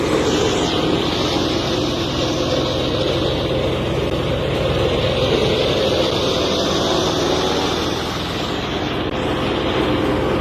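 A new silage cutter rated at 1.2 tons per hour, chopping feed for goats and cattle, runs with a loud, constant mechanical roar and whir that holds steady throughout.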